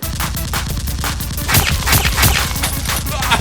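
Toy Nerf guns firing in a mock gun fight, a dense rapid stream of repeated pops and clicks, loud and continuous throughout.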